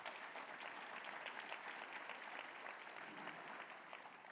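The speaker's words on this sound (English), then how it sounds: "Let's give them a round of applause." Steady applause from a conference audience, a dense even wash of clapping that holds at a constant level from start to finish with no voices over it.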